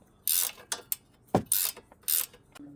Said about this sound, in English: So we'll have to get this completely snugged up with the hex key and the wrench,